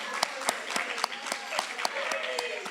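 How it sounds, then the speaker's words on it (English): Audience applause at a 2021 high school senior awards ceremony, honoring school counselors: a steady wash of many hands clapping with some sharper individual claps standing out, moderately loud and continuous throughout. "Give them a big round of applause"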